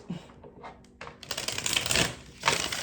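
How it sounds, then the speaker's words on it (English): A deck of playing cards is shuffled slowly and close by, giving soft riffling and flicking bursts that build into a denser crisp rustle, with no talking. "I am a slow shuffler."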